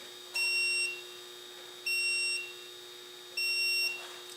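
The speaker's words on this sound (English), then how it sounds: "it's beeping and telling me to replace this battery" A KINGBOLEN BM580 battery analyzer sounds three evenly spaced, piercing electronic beeps, each about half a second long, with short pauses between them, sitting over a steady faint hum.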